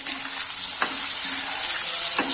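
Amla gooseberries are stirred into hot oil for pickle, giving a steady close sizzle with a few soft scraping knocks of the spoon, and no voices.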